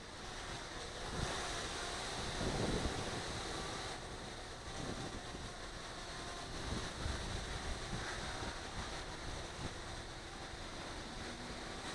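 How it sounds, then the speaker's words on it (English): Steady, blustery wind roars against the microphone outdoors, with a broad rushing swell partway through; no voices. "Here, another gust."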